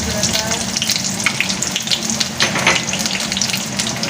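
Garlic and green chillies dropped into hot mustard oil in a village kitchen, a loud continuous close sizzle and crackle with bubbling spatters throughout, no voices.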